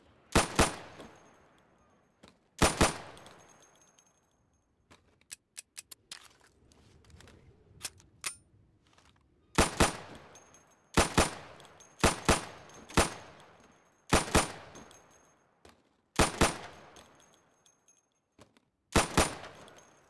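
Gunfire in the Insurgency video game as pop-up targets are shot: sharp, loud single shots and quick doubles ring out at irregular intervals, with quiet gaps and faint clatter between them.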